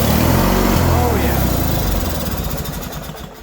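A 1990s Murray riding mower that had sat for seven years starts on brake cleaner with the choke on and runs, a loud low engine drone that gradually fades and roughens over a few seconds.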